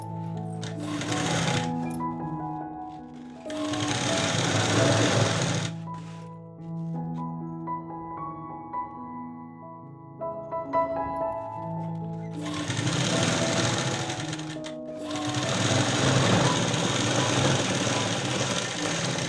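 A sewing machine stitches a churidar pant, running in loud sustained bursts of rapid mechanical rattling separated by quieter pauses, close by with no talking over it.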